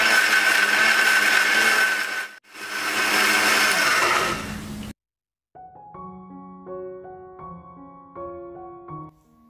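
An electric blender grinds ginger and garlic into a paste with a loud, harsh whir in two bursts split by a short pause, then stops and gives way to a plucked musical tune.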